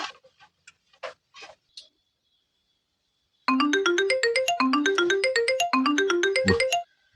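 A telephone ringtone bursts in after a few seconds of quiet, playing a repeating melodic chime pattern three times, loud and close, after some brief scattered knocks and noises at the start.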